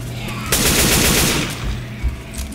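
Rapid automatic rifle fire from the Left 4 Dead 2 video game, a loud sustained burst of close gunshots that tails off into scattered shots and game noise.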